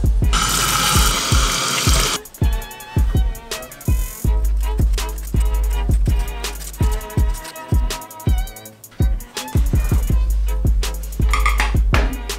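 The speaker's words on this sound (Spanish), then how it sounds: "lo primero que tenemos que hacer es lavar y pelar." Tap water runs steadily while large potatoes are washed in a sink, with repeated sharp knocks and clatters of potatoes and hands against the basin over the continuous flow.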